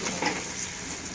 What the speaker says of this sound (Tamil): மல்லியை போட்டு எண்ணெயிலே நல்லா வதக்கினோம்னா நல்லா வாசமாக இருக்கும்